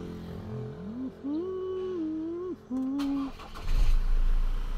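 A Ford Raptor pickup is started during an aircon cleaning: a rising, wavering whine with short breaks, then the engine catches in a louder, low rumble at the end.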